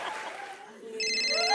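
A brief electronic telephone ring starts partway through, bright and tonal, following a moment of muffled sound.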